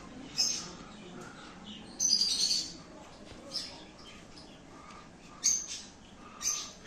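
Budgerigars in a pet shop give several short, bright chirps and twitters at moderate distance, in separate bursts over a quiet background with no talk.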